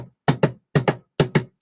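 Hands tapping on a desk to imitate horse hooves clip-clopping, loud close double knocks repeated in three galloping pairs with a faint extra tap at the end.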